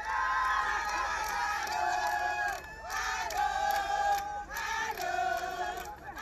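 A festive crowd of Ivorians gathered at their consulate general in Jeddah, cheering and shouting together in a steady, loud, continuous roar with rising whoops.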